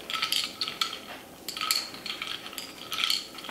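A spoon stirs iced coffee in a glass, with quick, bright clinks and rattles of metal against glass and ice in uneven bursts, close and fairly loud with no voices.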